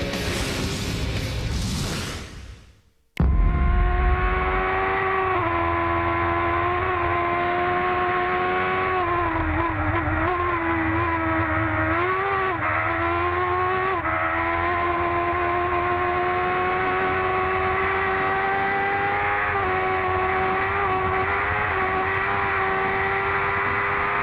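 IndyCar race cars run side by side on the Toronto street circuit. A loud, sustained engine howl follows a brief cut, with revs rising and falling as the cars pass close by.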